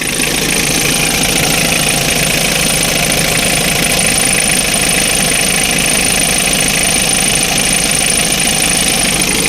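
A Mitsubishi Strada 2.5 diesel pickup engine idles close by, a loud, steady clattering drone with a rapid knocking pulse and no speech.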